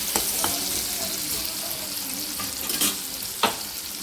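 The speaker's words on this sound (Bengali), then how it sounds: "আলুটা দিয়ে নাড়াচাড়া করে নিচ্ছি।" Potato pieces fry and sizzle in a pan as they are stirred, giving a steady close hiss with a few sharper scraping clicks spaced through it. No one speaks.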